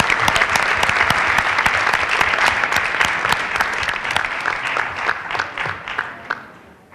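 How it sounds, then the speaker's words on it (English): Sustained applause from a school board meeting audience honoring third graders, dense steady clapping that fills the room and tapers off toward the end. "Big round of applause for all of our 3rd graders."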